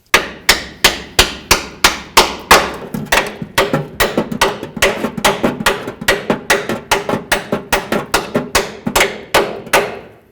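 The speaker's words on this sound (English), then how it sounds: "you go ahead and bonk on it with your hammer" Rapid, loud metallic hammer strikes on a bolt while replacing front shocks on a 1988-2002 GMC Sierra 1500, about three per second, sharp and close, continuing steadily with no talking.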